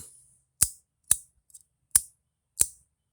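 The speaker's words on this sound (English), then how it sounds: "flick them into place and get that louder, not very loud, but louder click" Four sharp, bright clicks sound one at a time with pauses between as magnetic pieces of a CompoForm ClickBar flick into place, plus a faint tiny tap, in an otherwise quiet space.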